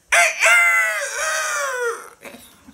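A young rooster crows once, loud and close: a sharp opening burst, then a long sustained call that fades, followed by a few faint clucks.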